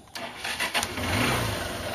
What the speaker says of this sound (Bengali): এখন আমি বাইকটা স্টার্ট করব।